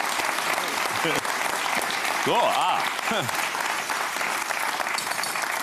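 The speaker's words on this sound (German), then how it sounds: "Na ja, da, Applaus dafür" A studio audience on a TV cooking competition show breaks into steady, continuous applause. A voice talks briefly over the clapping partway through.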